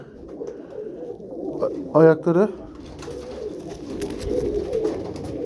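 A couple of pigeon coos from white feather-footed tumbler pigeons, short and throaty, sound close by over steady background noise, with someone talking nearby.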